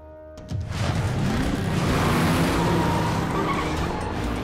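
An animated Hot Wheels car launches at full throttle, a sharp roar rising almost at once into a loud, sustained engine scream with a gritty skidding edge, close and alone without talk.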